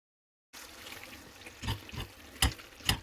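Pizza sauce seasoned with black pepper bubbles and is stirred in a pan, with soft wet plops and spoon scrapes in a few distinct bursts after a brief silence.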